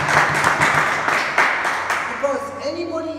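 An audience at a Toastmasters club meeting claps for about two seconds, then a voice begins speaking as the applause fades.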